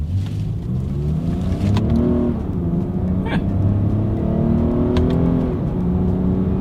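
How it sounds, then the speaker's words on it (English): A 2022 Lexus RX 350 SUV accelerates hard through paddle-shifted gears from inside the cabin, with steady engine drone rising in pitch, dropping sharply at each shift around two and five seconds, then climbing again, loud and continuous without speech. "let's go ahead and test out the paddle shifters and let's see how quickly they are going to react for us here"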